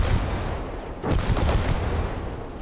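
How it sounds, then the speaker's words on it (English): Incoming artillery in the World War II game Gates of Hell, a sustained roar of gunfire and blasts with a sharp burst of rapid cracks around the midpoint, loud and close, no voices. "Incoming artillery!"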